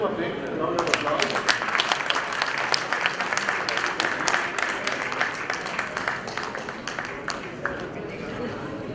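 An audience at a Rotary District 3010 event applauds in a dense, steady burst of clapping that carries on throughout, with an announcer's voice over it.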